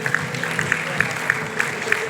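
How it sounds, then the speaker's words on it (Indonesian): A church congregation claps in worship, a quiet, steady patter of many hands with a few sharper claps standing out, fairly distant and soft. "Tepuk tangan yang paling dahsyat bagi Tuhan."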